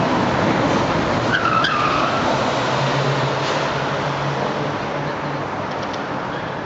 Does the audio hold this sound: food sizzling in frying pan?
no